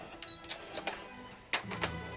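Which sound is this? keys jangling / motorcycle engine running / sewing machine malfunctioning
sewing machine malfunctioning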